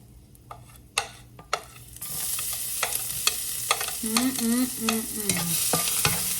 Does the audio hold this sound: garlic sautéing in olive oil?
yes